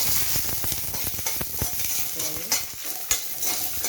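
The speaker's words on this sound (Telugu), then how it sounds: "ఎండుమిర్చి, ఎర్రగడ్డ కొంచెం ఎర్రదోలగా వచ్చేట్టుగా వేసుకుంటే సరిపోతుంది" Dry red chillies and onion frying in oil in a pan for a sesame-peanut chutney, with soft sizzling and repeated scraping stirs of a utensil, fairly close and without speech.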